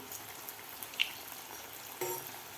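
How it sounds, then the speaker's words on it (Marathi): Puffed rice pakoras frying in hot oil, a steady soft sizzle with a couple of brief pops and a slight rise near the end, fairly quiet and free of talk. "आपल्याला व्यवस्थित एक क्रिस्पी होईपर्यंत आपल्याला व्यवस्थित तळून घ्यायचे आहेत"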